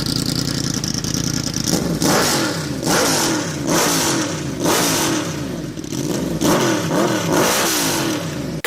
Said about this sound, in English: It has a distinct scream that no other leader bike has, thanks to its cross-plane crank and its firing order.